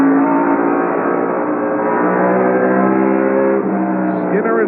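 NASCAR trucks race at the I-70 track in the 1996 Western Auto 200, their engines a loud sustained drone with shifting pitch as they pass, under steady race commentary.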